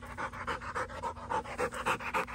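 A big kennel dog pants in quick, rhythmic breaths close to the listener, moderately quiet and steady with no talking over it.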